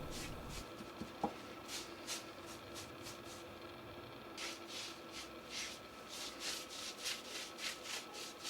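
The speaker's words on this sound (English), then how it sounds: "I did an initial sand of the top using 80 grit to remove the CNC flattening marks" Sanding the top of a chestnut wood slab by hand with 80 grit sandpaper, a faint, steady, rhythmic rubbing repeating roughly twice a second with no talk.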